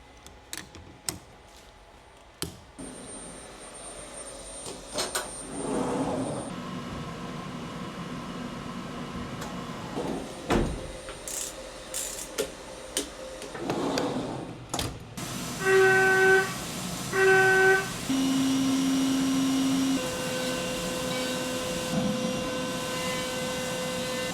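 A Datron CNC milling machine cuts an aluminum bracket with a bull nose end mill, giving a steady mechanical drone with scattered louder bursts and some clear tonal whines near the end.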